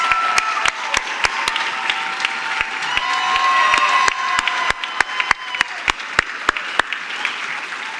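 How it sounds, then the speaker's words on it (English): Applause from an audience at a startup pitch night for the competing teams, a crowd clapping with some cheering, while one nearby person claps sharply and rhythmically as the wider applause thins out. "Let's give one more round of applause for all of our amazing teams."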